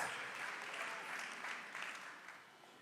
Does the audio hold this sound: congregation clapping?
yes